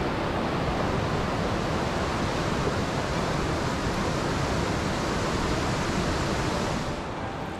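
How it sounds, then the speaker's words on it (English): A waterfall in a gorge near Owen Sound in winter gives a loud, steady, broadband rushing roar that fills the whole stretch and eases slightly at the very end. "Here's the waterfalls."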